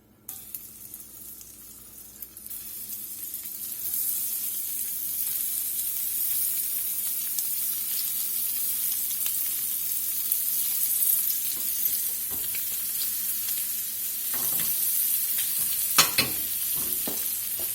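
Shrimp sizzle in browned butter for a Creole jambalaya, a continuous bright frying hiss that swells after a sharp start, with spatula scrapes and crackles near the end.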